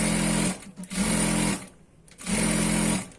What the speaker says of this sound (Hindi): आपको सिर्फ इसके ऊपर जो है सीधी सिलाई लगानी है